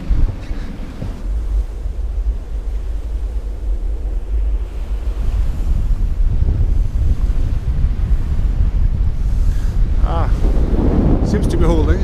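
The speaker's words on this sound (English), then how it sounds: "It's blowing pretty fresh here now" Strong wind blows across open sea aboard a sailboat in heavy weather, a loud continuous rush buffeting the microphone with waves churning beneath.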